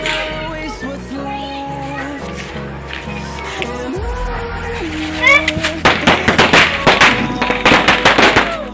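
Rapid crackling pops of Diwali firecrackers going off in a dense string, loud and close, over a continuous hum and background voices.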